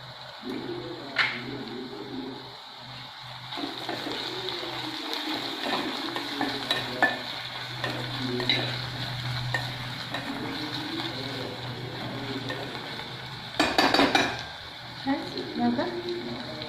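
Green chilies and curry leaves fry in a pan for puri chutney, giving a steady soft sizzle with a few clinks, while pigeons coo in the background.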